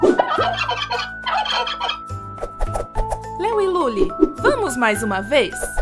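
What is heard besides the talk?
turkey gobbling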